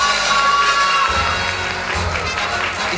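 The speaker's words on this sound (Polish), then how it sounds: "Jeszcze o brawa poproszę" Crowd at the Miss Ziemi Michałowskiej 2014 pageant cheers and whoops for the audience-choice winner, loud shouting voices and children's cries swelling over scattered clapping.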